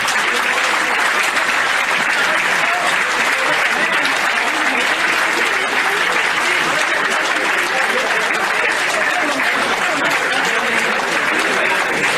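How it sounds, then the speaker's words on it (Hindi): A political gathering in Raipur where a crowd gives loud, sustained applause to welcome a speaker, a dense, steady roar of clapping with no voices over it. "मैं बहुत ही सम्मान के साथ आप सबके तालियों के बीच आदरणीय नंद कुमार साय जी का आमंत्रित करता हूँ।"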